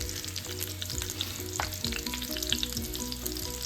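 Meatballs are moved into a pan of sizzling tomato sauce, which gives a steady close frying hiss with stirring clatter and soft thuds as each one drops in.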